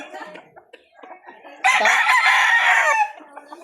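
A straight Sweater gamecock rooster crows one loud, close, sustained call lasting over a second, with softer clucking and bird sounds before and after.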